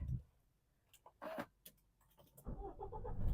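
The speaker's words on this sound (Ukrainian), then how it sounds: "Зараз заведемо автомобіль." A 2015 Renault Koleos is started with a push button: faint clicks and a short cranking burst, then the engine catches and runs quietly nearby.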